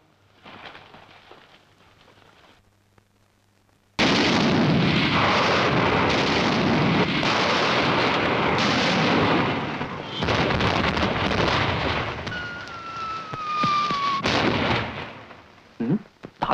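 Artillery bombardment in a 1952 Chinese war film, a sudden massive roar of continuous booming blasts after a quiet opening, loud and sustained with a whistling shell streak and fading rumble near the end.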